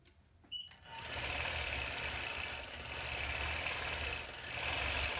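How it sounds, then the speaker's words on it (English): A Gammill Vision longarm quilting machine stitching under a stitch regulator starts up after a click, then runs with a steady buzzing mechanical whir that rises and eases slightly as it works, close and continuous. "you can really hear the engine accelerate and pause with my movements"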